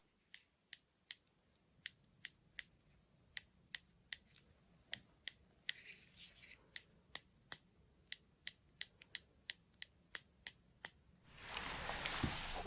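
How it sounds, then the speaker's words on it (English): Blunt scissors snip crisply and close up in a quiet ASMR space-doctor roleplay, in a steady series of separate cuts about half a second apart, ending in a burst of soft rustling. "Don't worry, these scissors aren't sharp. They only cut the space shrapnel."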